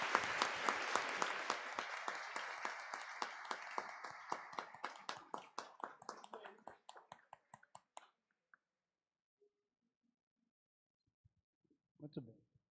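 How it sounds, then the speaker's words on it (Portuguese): A church congregation at a Mass of thanksgiving for a priest's ordination anniversary bursts into sustained applause that gradually thins over eight seconds into a few stray claps, with a brief voice near the end. "Mais uma salva de palmas, gente."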